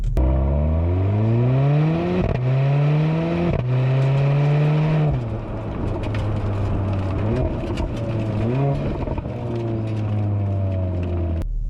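A Mercedes GLA45 AMG engine revs hard through repeated upshifts during a launch, the loud climbing pitch dropping at each gear change, then continuing to pull steadily with no one talking.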